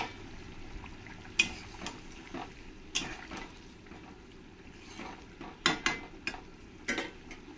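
Pieces of fried rohu fish go into a Bengali-style curry bubbling in a pan, giving soft splashes and scattered clinks of a utensil against the pan amid a quiet simmer.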